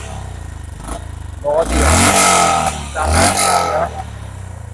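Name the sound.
motorcycle exhaust note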